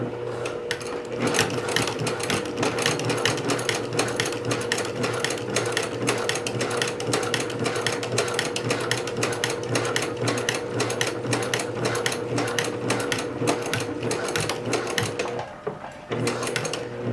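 Home sewing machine stitching two pant front pieces at a half-inch seam, a fast, even mechanical needle clatter running unbroken and close for many seconds with only a brief dip near the end.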